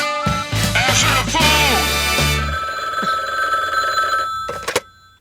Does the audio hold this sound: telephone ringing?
yes